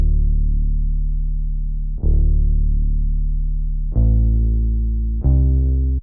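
A simple synth bass line in FL Studio follows the root note, with four sustained low notes struck in turn, each attacking sharply and then holding steady. It is loud and close, with no voices.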